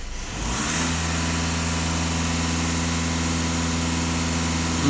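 A VW Passat B8 Alltrack diesel engine held at high revs with the throttle floored, a sustained loud, even drone after a quick rise in the first second, steady and close with no voices.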